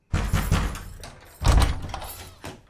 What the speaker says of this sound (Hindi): ये दरवाजा नहीं खुलेगा। नहीं खुलेगा तो तोड़ दूंगा।